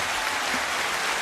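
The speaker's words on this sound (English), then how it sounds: "Y'all give him a round of applause." Studio audience applause on a morning radio show, a brief steady wash of clapping hands, fairly loud and close with no talk over it.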